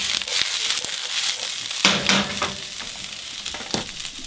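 Cabbage cooking in rosemary olive oil, a steady close sizzle and fry with a few louder crackling bursts and stirring scrapes, no voices.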